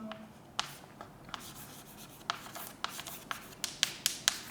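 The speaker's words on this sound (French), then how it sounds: "Je l'écris à la ligne" Chalk or marker scratching and tapping on a classroom board as a word suffix is written out, with short strokes and sharp taps in an irregular rhythm, close and fairly quiet with no talk.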